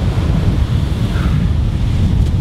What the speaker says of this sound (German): Weil es so stark windig hier ist